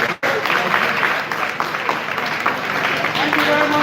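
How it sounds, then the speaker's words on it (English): Dense applause from a school crowd at a primary school quiz competition event, a continuous wash of many hands clapping at once, fairly loud and steady throughout, with voices mixed in. "A round of applause for all of them."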